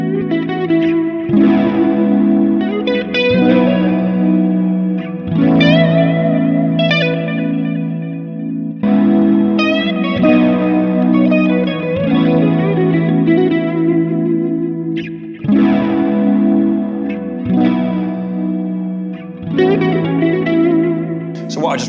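A guitar loop recorded on a Hotone Ampero Mini looper pedal repeats in a steady cycle of strummed, effected chords with chorus and distortion. It sounds loud and close, with new layered notes over the repeating pattern.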